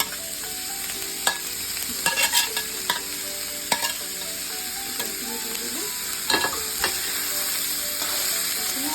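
Chicken, cabbage and carrot are stir-fried in a pan as momo filling, producing a loud, continuous close sizzle punctuated by sharp spatula scrapes and clinks, without speech.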